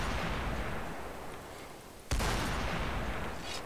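Rapid missile-pod fire in the Roblox zombie game Noobs vs Zombies, a dense crackling barrage that runs steadily with a sharp burst of louder launches midway, no talk over it.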